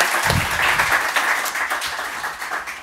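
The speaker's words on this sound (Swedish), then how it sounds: "Men vi ger applåd till de här som har varit här nu." Audience applause at a panel discussion on a new national park during Almedalen week, a dense and steady crowd clapping that fills the whole stretch at an even level.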